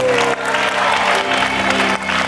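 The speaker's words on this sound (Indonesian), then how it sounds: "makasih tepuk tangan dong untuk Magelang" A loud, steady burst of applause from a crowd, continuous clapping filling the space with a low hum of voices beneath.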